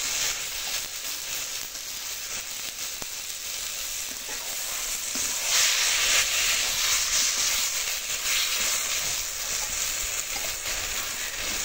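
Green chillies tossed into a hot pan of moong dal with ash gourd, giving a loud continuous sizzle and frying hiss with some stirring, steady throughout and slightly swelling midway, with no voices.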